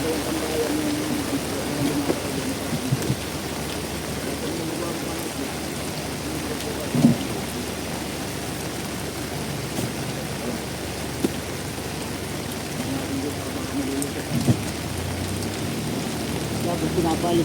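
Heavy rain pours in a constant loud roar at sea aboard a tuna fishing boat, with occasional thuds and faint voices beneath it.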